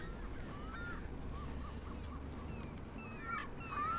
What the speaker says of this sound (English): Sure are a lot of birds.